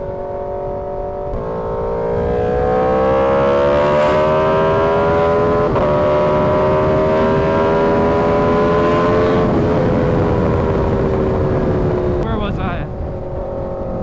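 A car engine revs steadily from inside the cabin, its pitch climbing and then dropping at clunky gear shifts before climbing again, loud and continuous throughout, with a person talking over it.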